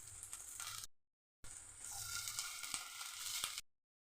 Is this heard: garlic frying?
yes